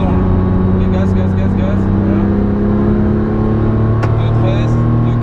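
A GT3 race car accelerating on a circuit, its engine drone steady and loud throughout with no clear pause.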